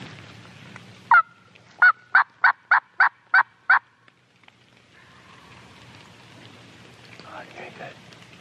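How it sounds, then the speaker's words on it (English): A wild turkey gobbles at a distance on Mississippi public land, one call followed by a quick run of six sharp rattling bursts, all heard over a steady hiss of falling rain. "I got him to gobble, and he's way the heck up in here now"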